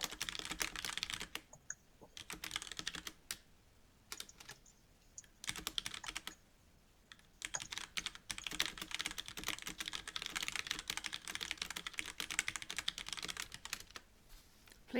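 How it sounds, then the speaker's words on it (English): Fast bursts of clacking keystrokes on a loud mechanical keyboard with Cherry Red switches, close and crisp, arriving in irregular runs separated by short pauses. "my obnoxiously loud keyboard is obnoxiously loud while you're trying to type"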